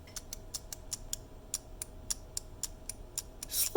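A 3D printed key switch fitted with a magnet clicks repeatedly at close range, sharp light ticks coming in a quick irregular series over a faint steady hum.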